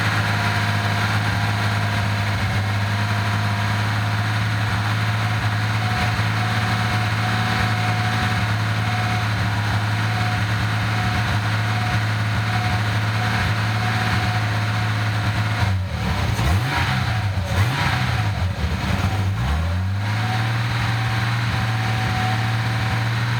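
A 1988 Nissan 300ZX turbo, a California automatic, idles steadily with a low drone, then the engine is revved on the gas several times, the pitch rising and falling in quick uneven swells before settling back to idle.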